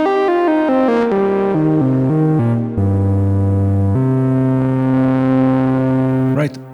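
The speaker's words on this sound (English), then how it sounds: "I created a simple voice with two FM operators." Simple two-operator FM synth voice built in VCV Rack, played dry with no delay: a buzzy, noisy tone stepping through a series of sustained notes, ending with a brief pitch sweep.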